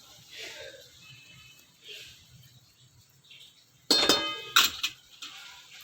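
Shimla mirch qeema being served into a dish, with a cluster of loud metal utensil and dish clinks near the end after a quiet stretch with faint background noise.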